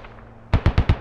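Rapid gunfire in the military shooter game Squad, a burst of about five sharp, loud shots in quick succession after a quiet lead-in, with no talk.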